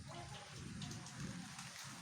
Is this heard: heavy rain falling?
yes